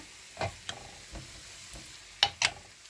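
Ghee being stirred and mixed into titaura food: a handful of soft, scraping stirs with faint sizzling, ending in two sharper clinks of a spoon.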